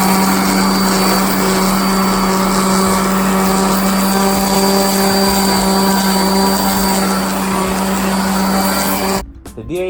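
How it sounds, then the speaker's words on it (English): Dual-action sander stripping chrome spray paint off a Cadillac Fleetwood 75 series, a loud continuous high-pitched whirring with steady tonal hum, cutting off abruptly near the end. "The DA sander was sanding it down"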